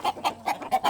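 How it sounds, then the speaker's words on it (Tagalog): Chicken clucking in short, evenly spaced bursts, five quick clucks within a second, close and moderately loud. "wala pang kaon ang manok ni Kevin."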